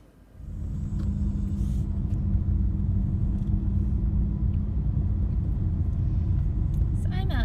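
Car driving, heard from inside the cabin: a low steady road rumble rises quickly at the start and then holds as a continuous drone, with brief clicks near the end and no clear talk.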